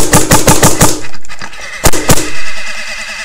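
Ego11 and DM5 paintball markers fire reballs in a rapid, loud string of about six close shots, then a pause, followed by two more separated pops.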